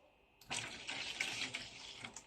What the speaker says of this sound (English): And then you're going to add half a cup of warm water.